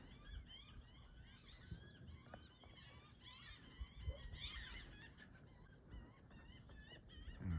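Geese honking repeatedly at a distance over faint background noise, calls overlapping in a loose, irregular chorus.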